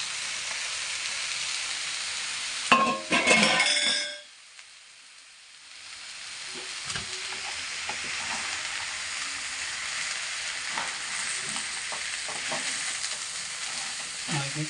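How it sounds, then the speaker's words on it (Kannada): Coriander powder, poppy seeds and roasted gram stirred in a pan on low flame for village-style country chicken sambar, a brief burst of sizzling and scraping, a pause, then a quieter continuous hiss with occasional scrapes. "ಹಾಗೆ ಲೋ ಫ್ಲೇಮಲ್ಲಿ ಮಿಕ್ಸ್ ಮಾಡಿಕೊಳ್ಳಿ"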